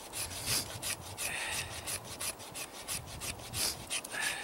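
A carbide scraper shaves fatwood in quick, close rasping strokes, a dry scratchy rhythm of short scrapes repeating at a steady pace.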